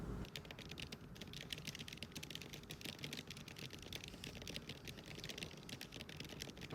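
Steady rapid typing on a computer keyboard while drafting a high fantasy novel, the keystrokes dense and continuous throughout at moderate distance, with no speech.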